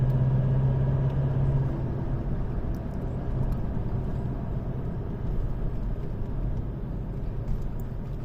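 A moving vehicle rolls along a winding mountain road at night, giving off a steady low engine rumble and road drone that stays constant throughout with no voices.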